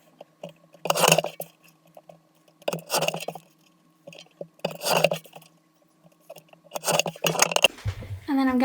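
Scissors trim a printed paper image for a planner vision board: four evenly spaced crisp snips up close, each with a short papery crunch, then a louder rustle of handled paper at the end.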